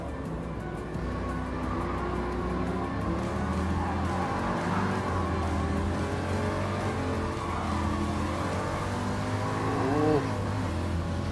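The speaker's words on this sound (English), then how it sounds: "As you can hear, my car's wheels are spinning really much." Simulated car engine and tyre noise from Gran Turismo Sport, a steady loud drone with rising and falling revs as the wheels spin, continuous throughout with a brief swell near the end.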